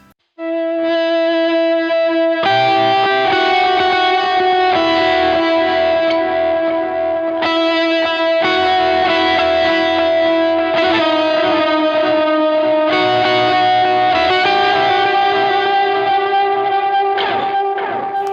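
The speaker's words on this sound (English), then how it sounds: "without the pickup, it will sound a little bit more like a traditional guitar" An electric guitar played through delay and whammy effects, without a sustainer pickup, rings out loud, distorted chords and sustained notes, with new strummed attacks every few seconds over a dense wash of repeats.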